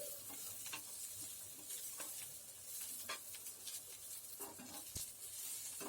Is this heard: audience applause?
no